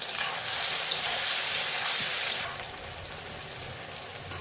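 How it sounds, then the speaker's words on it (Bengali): Eggplant pieces frying in hot oil seasoned with turmeric and salt, a close bright sizzle that is loudest at first, then settles to a softer steady crackle. "ওই তেলেই এবার বেগুনগুলো ভেজে নেব।"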